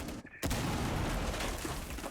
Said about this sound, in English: The explosions ringing out across Bang as they start to get these hatches underway